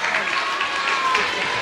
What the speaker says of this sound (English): Girls, clap along.